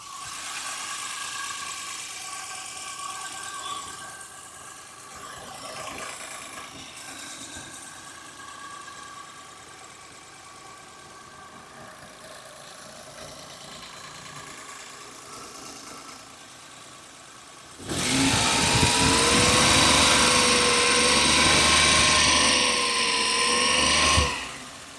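A 2007 Maruti Suzuki 800 petrol MPFI engine idles steadily up close, a low even hum, then revs sharply and holds a loud, higher drone for several seconds before dropping back.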